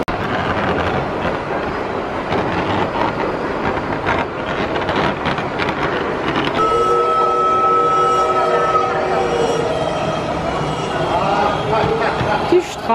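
Tram passing in a Kraków street, a steady rolling rumble with a long squealing tone from the wheels in the second half, heard close and loud over street noise and intermittent voices.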